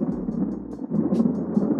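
A white-noise Chrome extension plays a thunderstorm sound: steady low rumbling thunder with a soft patter of rain, continuous and fairly loud.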